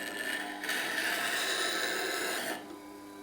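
WG250 wet stone grinder sharpening a roughing gouge, steady motor hum with a brighter rasping grind rising for about two seconds as the tool is rotated against the stone, then easing back to the hum, no voices.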